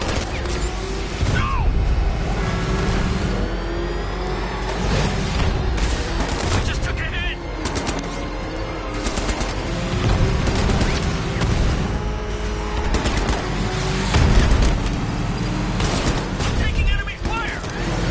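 Rapid bursts of gunfire crackle through a Batman Arkham Knight battle alongside mechanical clanks, creaks and heavy booms, dense and loud throughout, with voices shouting over the shooting.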